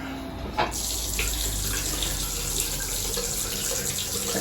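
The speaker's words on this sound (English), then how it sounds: "Warm water to come through." Warm water runs steadily from a tap in a continuous, close rushing stream, starting with a small clunk.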